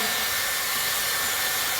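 Air blowing steadily out of a hair-styling appliance used as a hair dryer to pre-dry hair before straightening, a loud continuous broadband whoosh throughout with no talking.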